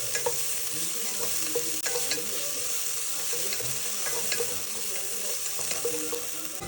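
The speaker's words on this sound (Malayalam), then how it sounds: "ജിഞ്ചറും ഗാർലിക്കും നന്നായിട്ട് വഴറ്റുക." Ginger and garlic sizzle steadily in hot olive oil, a continuous close frying hiss with occasional scraping stir strokes throughout, no talking.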